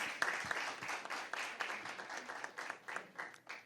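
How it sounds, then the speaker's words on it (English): A debate audience gives another round of applause for Uchenna: dense, continuous clapping at moderate volume that keeps going for a few seconds with small swells. "Give him another round of applause"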